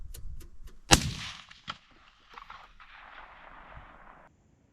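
A single loud gunshot, fired through three layers of glass, cracks sharply, followed by a long rolling echo that fades over a few seconds, with a few faint clicks before it.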